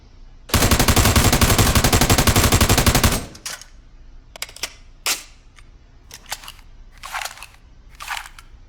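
M4 rifle fired in full auto from a kneeling stance in a video game, a loud, dense burst of rapid shots lasting about three seconds, followed by quieter clatter and brief whooshing noises.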